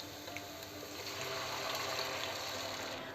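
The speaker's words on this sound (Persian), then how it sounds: "حالا دیگه 3 تا لیوان بهش آب اضافه میکنم" Three glasses of water pour steadily into a pot of okra stew with sautéed peppers, a continuous close splashing rush that swells slightly midway and runs throughout.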